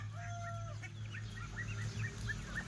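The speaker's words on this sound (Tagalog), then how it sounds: "Yung mga breeder natin, mga pabo." Breeder turkeys on a small farm give short, repeated clucking and gobbling calls, fairly faint and mid-distance, over a steady low background hum.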